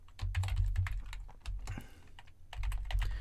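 Rapid, uneven clicking of fingers typing on a computer keyboard, close up, with a short pause midway before the typing resumes.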